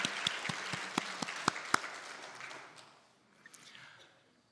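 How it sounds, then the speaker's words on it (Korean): Congregation applauding at a Wednesday church worship service, a modest round of claps that thins out and fades to near silence, with a faint stray clap or two at the end. "하나님께 영광의 박수 올리겠습니다"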